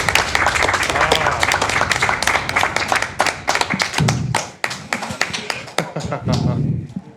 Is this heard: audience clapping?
yes